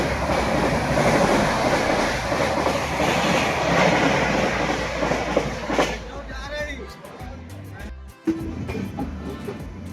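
A passenger train from Prayagraj to Delhi rumbles along the rails with a loud, steady roar and rhythmic wheel clatter that later thins into sharper clicks and clunks, with a person talking over it.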